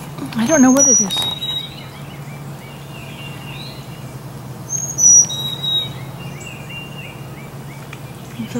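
Two wild birds outside call back and forth with short, high chirps and whistles, one burst loud and near at the start and more scattered calls later, over a low steady hum.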